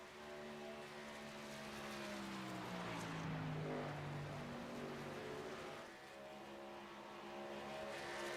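Racing trucks in a truck series at Chicagoland roar around the track, a sustained engine drone that swells and falls as they pass, with no voices over it.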